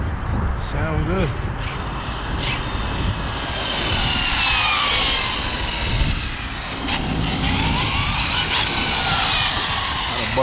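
An Arrma Limitless RC car running on a 4S battery whines at a high pitch as it makes quick flybys, the buzzing rising and falling as it passes, with a voice talking over it.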